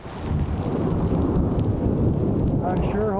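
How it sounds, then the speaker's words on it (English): Dense, roaring hailstorm with heavy rain and rumbling thunder, a loud continuous wash of noise with a brief faint whistling tone near the end. "hope that hail don't get bad"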